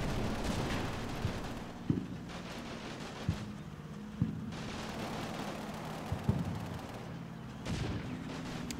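Machine gun fire in a WWII video game set in Italy sounds as distant rumbling bursts with scattered sharp single reports spaced every second or two over a steady low battlefield drone.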